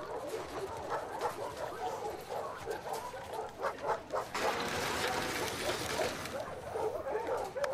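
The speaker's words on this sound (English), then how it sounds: "It's the dog that attacked me." A dog barks, yips and whimpers in The Last of Us Part II video game, several short bursts over a bed of background noise, with faint voices in places.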